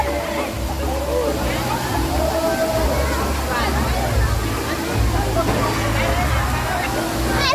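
People wading into cold water at Bato Springs, with splashing and sloshing over a constant rush of flowing spring water and lively chatter and voices throughout.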